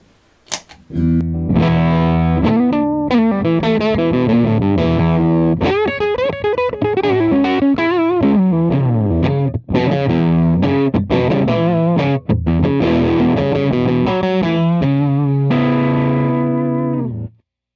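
An electric guitar played through a germanium Fuzz Face pedal into a clean amp, gain maxed: sustained saturated chords and riffs with a thick, buzzing tone, loud and continuous, no voices.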